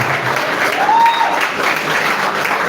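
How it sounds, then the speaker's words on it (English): Audience applause at a seminar and foundation launch, a steady, loud wash of clapping from a crowd filling the room for the whole stretch, with no talking over it. "Please, a round of applause"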